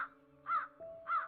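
A cartoon crow in a Hindi animated bedtime story gives two harsh, evenly spaced caws over a soft, steady background tone.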